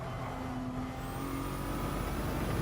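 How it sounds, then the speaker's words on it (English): Steady high-revving Ferrari 296 engine drone in Gran Turismo 7 at the Nürburgring, continuous and fairly loud, with a rising whine near the end and no voices. "I'm using the Ferrari 296, bro. They updated the sound"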